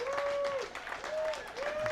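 Audience applausing Claudette Hamilton at a coaches show, a brief wash of clapping from the crowd with a sustained tone sounding over it.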